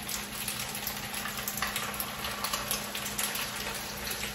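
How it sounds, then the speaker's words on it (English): Liquid egg pours over pasta, onions and jalapeno peppers in a hot skillet, producing a steady soft sizzle and frying crackle throughout, close and fairly quiet, with no talking. "Now I'm going to pour the egg over it."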